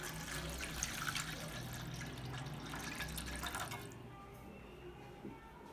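Water pours steadily into a pan of ghee while samosa dough is being made in a home kitchen, a close splashing rush that stops abruptly near the end, leaving quiet room tone.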